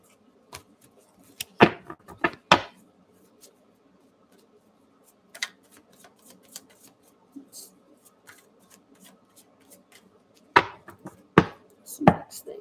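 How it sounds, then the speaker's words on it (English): Tarot cards are shuffled in short bursts of sharp riffling and slapping, clustered near the start and again toward the end with quiet pauses between, close and dry. "Well, I just mixed those cards all up."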